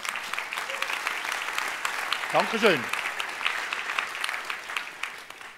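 Audience applause in a hall during a Basel Charivari carnival stage show: a steady wash of clapping from a sizable crowd, moderately loud, with a brief spoken thank-you and a short whistle partway through.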